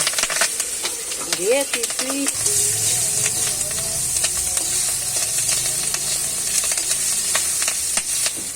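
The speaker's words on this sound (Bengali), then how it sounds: "রাঁধুনি ফোড়ন দিয়ে তেজপাতা তেলের উপরে দিলাম" Radhuni seeds and a bay leaf sizzling in hot oil, a loud continuous hiss and crackle close up, with a brief squeaky scrape near the start and scattered pops throughout.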